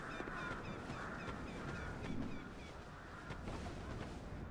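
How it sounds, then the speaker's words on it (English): Crows in the video game Dark Souls II give several harsh, honking caws in a row, moderately loud over a steady ambient game background with no talking. "I do not like all the crows."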